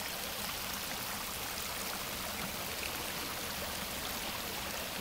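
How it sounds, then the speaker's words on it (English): An overflowing sewer sends a heavy, steady rush of water gushing into a creek. The broadband roar stays constant and close, with no pauses and no voices. "the sewer overflowing. Hundreds of gallons, probably thousands of gallons coming out of here."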